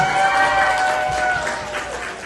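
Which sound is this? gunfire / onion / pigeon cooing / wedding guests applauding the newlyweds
wedding guests applauding the newlyweds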